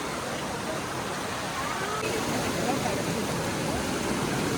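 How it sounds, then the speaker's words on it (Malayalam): Fast-flowing river water rushes continuously over large rocks at Kottiyoor, a loud, close, broadband roar with no pauses. "അത്യാവശ്യം നല്ല വെള്ളം ഒഴുകുന്നുണ്ടോ, വലിയ പാറകളൊക്കെ ഉണ്ട്"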